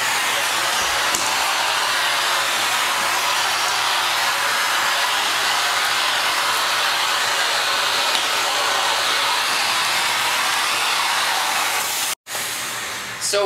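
A vacuum cleaner runs continuously with a loud, steady airy whine and rushing suction hiss, unbroken for several seconds before a brief sharp cutout near the end, with no talking over it.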